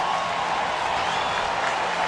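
A baseball stadium crowd in Detroit cheers and applauds after a rain delay, a dense, steady wash of clapping and voices that sounds broad and distant.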